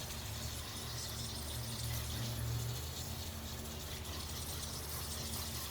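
A steady, hissing spray from a pump sprayer can runs continuously over a low mechanical hum, with a ratcheting, gear-like texture throughout.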